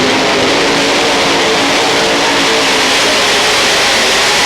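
A pulling tractor powered by five Ford engines runs at the 1996 European Tractor Pulling event at Ahoy Rotterdam, giving a loud, continuous, close roar with no pauses.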